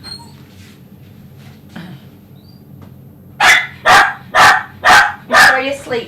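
Dogs at a grooming salon break out after a quiet stretch of low room noise into five loud, close barks in a quick, even series.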